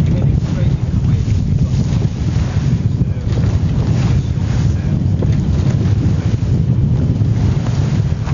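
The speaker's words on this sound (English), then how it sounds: "We've only got the engine running because we're heading straight into the wind." A boat motoring at sea straight into the wind, its engine a low steady drone under heavy wind buffeting and splashing waves, loud and continuous for the whole stretch with no voices.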